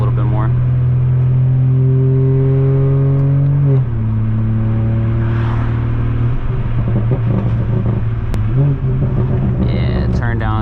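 A 2018 BMW 440i with a Stage 2 BM3 tune accelerates hard, its engine note climbing loudly and steadily through the gears, with pitch drops at each shift, and a voice briefly heard near the end.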